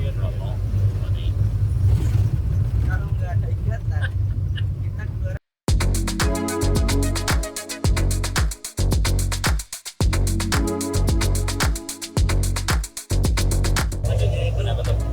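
A public bus driving around Bali, its engine rumbling steadily up close with rhythmic clattering and rattling from the cabin, broken by a brief dropout, while people talk faintly over the vehicle noise.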